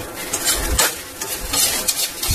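Flattened rice (chura) roasting over high flame in a wok, stirred continuously, with repeated scraping strokes of a spoon against the metal over a soft sizzle, close and fairly loud, with no talking.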